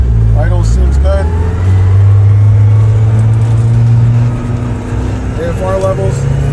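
A turbocharged Mazda Eunos engine idles steadily with a low, constant drone that holds at the same level throughout, with a voice talking over it now and then.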